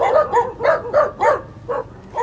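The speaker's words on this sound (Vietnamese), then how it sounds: "Xung quanh này rất là nhiều chó nữa mọi người." Dogs bark repeatedly in quick succession around a rural house, with about six loud, close barks in a steady rhythm and no other sound.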